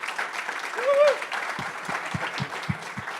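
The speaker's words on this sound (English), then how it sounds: "Let's give a giant round of applause to Barrett Spray." Applause from a panel event audience breaks out: scattered claps in a roomful of people, moderate and steady. A brief voiced tone comes just before, and the claps grow sharper and more spaced toward the end.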